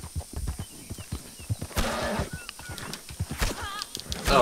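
Horse hooves and whinnies from the Red Dead Online video game, a rapid clip-clop run broken by loud neighs near the middle and end, with brief vocal bursts mixed in.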